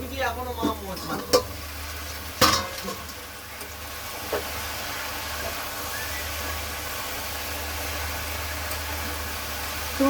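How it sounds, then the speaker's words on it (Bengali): Paneer sizzling in a hot pan for a curry, a steady frying hiss after a few sharp clatters and splashes as the pieces go in, close by. "এবারে আমি পনির বসাবো"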